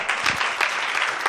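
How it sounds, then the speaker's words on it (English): Steady round of applause from a meeting audience as a panelist departs near the close of a panel discussion, dense continuous clapping held at an even level throughout. "They sub them out just before the end of the meeting so they can get a big round of applause."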